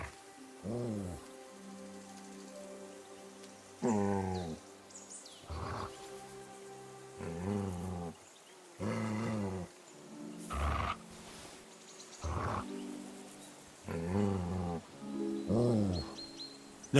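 A dog in Kingdom Come Deliverance II, heard up close in a series of repeated growling vocal bursts, each lasting about a second and separated by short quiet gaps across the stretch.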